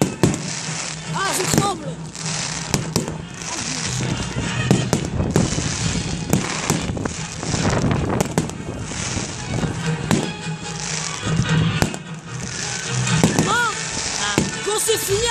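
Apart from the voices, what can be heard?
fireworks display exploding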